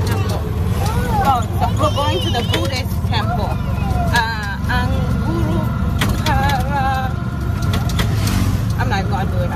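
A tuk-tuk ride in Sri Lanka, loud and rumbling with engine drone and road noise, as people talk continuously over the bumpy, rattling vehicle.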